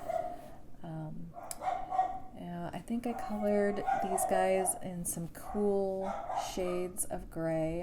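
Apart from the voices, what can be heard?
schnauzer dogs barking downstairs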